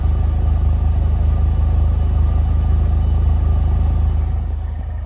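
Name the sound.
2009 Saturn Sky Redline engine exhaust, driver's side pipe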